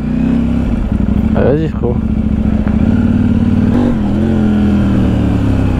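A Yamaha R7 sport motorcycle engine revs loud and close, a steady roar with a rising and falling surge in the middle, while a person talks over it.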